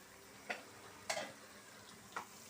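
Pieces of mutton head are stirred in hot oil in a pan; a faint, soft sizzle runs underneath three distinct scraping stirs spaced apart.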